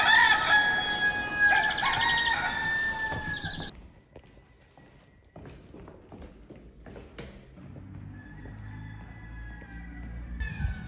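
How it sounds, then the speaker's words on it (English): A rooster crows loudly at the start, then chickens cluck and scratch more quietly in the background for the rest of the clip, in Majorca. "got a little balcony as well with lots of chickens."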